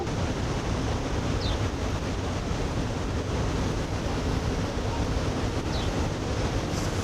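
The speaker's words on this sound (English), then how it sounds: "This is the superior part, the upper part of Iguazu Falls, here on the Argentinian side." Roaring water at the upper part of Iguazu Falls on the Argentinian side, a dense, steady broadband rush that fills the whole stretch without change, close and loud with no voices.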